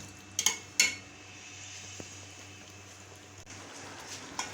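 Chicken karahi with green chillies gets stirred in a metal pot: two quick clanks of a utensil against the rim, then a faint scrape and a light tap over a low background hum.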